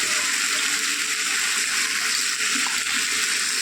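Water pours steadily into a cooking pan of kuche eel fish curry, a continuous loud hissing gush that runs unbroken for a few seconds.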